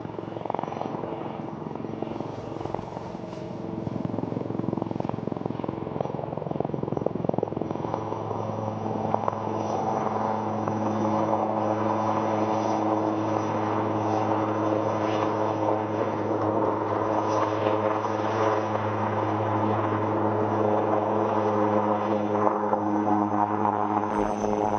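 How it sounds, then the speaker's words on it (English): A hingeless-rotor helicopter performs sideward flight along the runway at the Aero India 2021 air show, its loud steady rotor and engine drone holding continuously near the crowd with no pauses. "The helicopter will now perform some sideward movement parallel to the runway."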